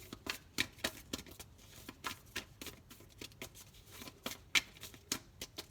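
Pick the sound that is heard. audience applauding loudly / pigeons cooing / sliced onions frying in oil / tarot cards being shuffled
tarot cards being shuffled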